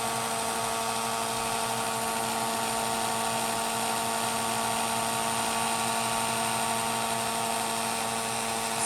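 A heat tool blows steadily as it melts clear embossing powder on a hand-stamped card, giving a constant high-pitched whine with an even hum throughout. No voices are heard.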